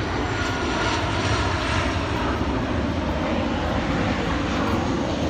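A jet airliner passes low overhead along a flight path beside a canal-side boaters park, its loud, broad engine roar filling the whole clip steadily with no voices.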